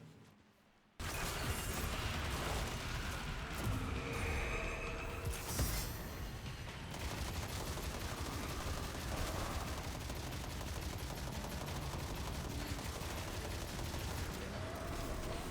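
Continuous loud machine gun fire in a video game during damage tests, rapid bursts running nearly nonstop after a brief quiet start.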